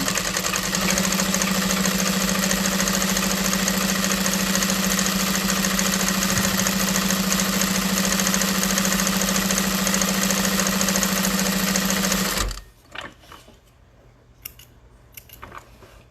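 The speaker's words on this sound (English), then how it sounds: "I do not backstitch when making my handles because we're going to stitch over it later." Sewing machine stitching tote bag handles, a steady loud motor whir with rapid needle clatter running continuously for about twelve seconds, then stopping abruptly into quiet with a few faint handling clicks.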